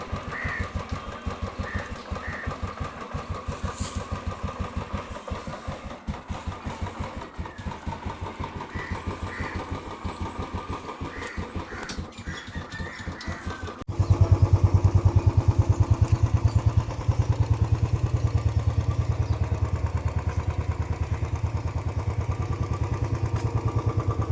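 A second-hand Royal Enfield motorcycle engine runs steadily with a rhythmic, throbbing idle, then grows noticeably louder and rougher midway as if revved or brought closer.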